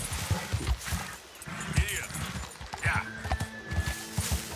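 Horse hooves clip-clop in a steady trotting rhythm on a mountain trail in Red Dead Redemption 2, close and clear, with a brief whinny and a voice talking over it.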